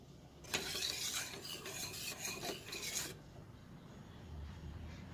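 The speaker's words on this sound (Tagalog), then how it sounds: "ilagay din natin para mix lang natin hanggang malusan" A spoon rasping and scraping through banana brownie batter in a bowl, a close, steady stirring for a few seconds before it stops.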